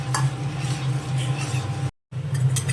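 Rice and lentils, fried beforehand, being stirred into a pot of half-boiled dal for khichuri, with a steady low cooking hum and soft scraping of the spoon against the pot, broken by one short gap.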